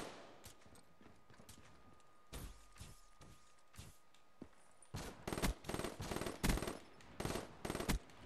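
Gunfire from a sniping video game rings out as a few scattered single shots, then dense rapid bursts of repeated reports in the second half, loud and close with no talk over them.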